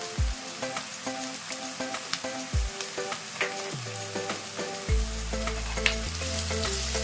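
Garlic paste frying in a pan for paneer dal makhani, a steady sizzle with scraping stirs and clinks of a utensil throughout, the frying growing denser toward the end.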